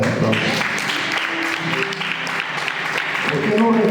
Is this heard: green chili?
no